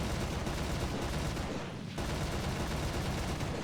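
Continuous rapid 20 mm cannon fire in War Thunder realistic tank battles, a dense loud hammering stream that briefly pauses mid-burst before resuming.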